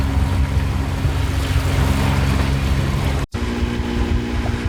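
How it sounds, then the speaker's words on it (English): A sailboat motor sailing into the wind at sea off the coast, with a steady engine drone blended into rushing wind and water noise throughout, broken by one brief dropout. "I thought I might be able to sail, but I'm motor sailing towards Caloundra now."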